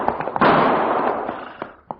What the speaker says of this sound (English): Not only did I hear those gunshots, Cherokee, but now I can see where they came